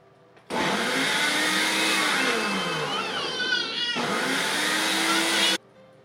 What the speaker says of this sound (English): I will stop recording long enough to blend it the rest of the way